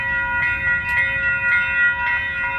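A Metrolink commuter train passes in Upland, a sustained tonal horn-like hum over low rumbling noise that stays steady and fairly loud throughout.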